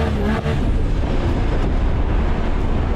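A 1000HP R33 Skyline GTR engine holds near 9,500 RPM against the rev limiter during wheelspin, a loud, dense, continuous roar with rapid popping cuts running the whole time.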